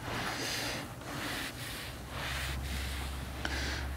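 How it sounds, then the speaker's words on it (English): Towel gently wiping excess dressing off the exterior trim of a Subaru WRX, soft continuous rubbing strokes in a loose rhythm, close and quiet with no talking. "I'm just going to take my towel and, you know, just gently wipe the excess off"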